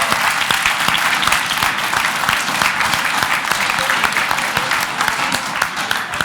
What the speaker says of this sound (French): Je vous propose d'applaudir l'équipe verte qui finit